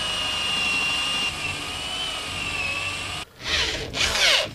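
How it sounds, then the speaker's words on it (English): Power drill with a 1/4 inch bit boring into a wooden loft joist in a tiny house, a steady loud whine that dips, then surges twice as the bit bites into the wood. "then I'll drill a 1/4 inch hole pretty far in"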